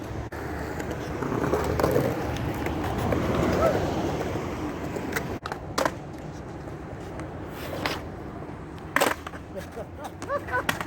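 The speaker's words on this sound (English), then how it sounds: "I'm going to try to rock fakie this nice mellow ledge or quarter pipe." A skateboard rolls across pavement toward a mellow quarter pipe for a rock fakie attempt: a loud, continuous gritty rumble, a sharp break midway, then quieter rolling with a few hard clacks of the board.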